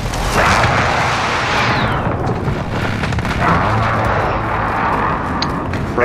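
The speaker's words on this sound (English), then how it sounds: "Precision airstrike inbound." Booming airstrike blasts in Call of Duty: Modern Warfare, a dense rumbling explosion that swells early then rolls on with further thuds and debris crackle, loud and continuous with no talking.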